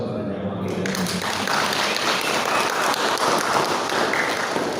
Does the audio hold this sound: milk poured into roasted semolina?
no